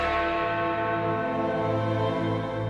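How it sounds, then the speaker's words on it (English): Big Ben, the great main bell of the Elizabeth Tower clock at the Palace of Westminster, first sounded in 1859, rings out in a deep, steady tone with a long, humming resonance throughout, and no voices are heard. "this name actually refers to the clock's main bell, which first marked the hour on the tower's completion back in 1859"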